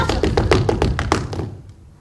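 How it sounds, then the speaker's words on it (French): Wooden-soled clogs clattering on a tiled floor, a quick run of sharp hollow taps in uneven rhythm, close and fairly loud, then fading out into quiet. "C'était le bruit des semelles de bois de nos galoches sur le carrelage."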